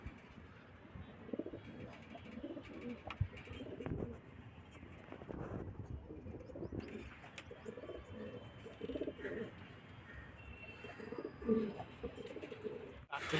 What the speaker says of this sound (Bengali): পায়রা পোষা কেউ আছে বন্ধু?